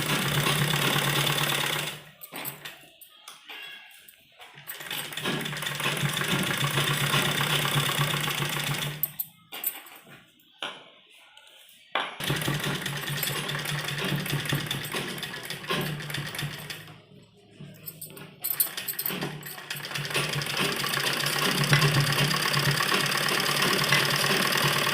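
Sewing machine stitching a frill onto a newborn baby's dress, running in long steady bursts with brief pauses between seams, loud and close.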